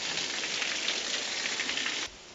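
Steady rain falls outdoors near a coastal road in Greece, a dense continuous hiss that holds evenly for about two seconds before cutting off abruptly, with no voices.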